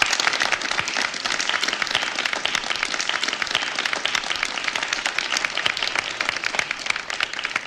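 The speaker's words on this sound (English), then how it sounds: "Go ahead and clap. They worked hard." A small gathering claps for a first graduating class, a continuous crisp patter of many hands at close range, fairly even in loudness and uninterrupted by talk.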